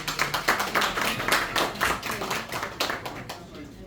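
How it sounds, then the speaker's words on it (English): An audience at a cultural evening event gives a round of applause, with scattered, fairly close claps in an uneven rhythm that thin out toward the end, and some voices mixed in. "So let's give them a round of applause."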